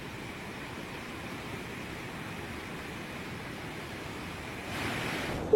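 The Bhagirathi river in flood at Uttarkashi after continuous rain, a constant broad roar of rushing water that holds steady and swells slightly near the end.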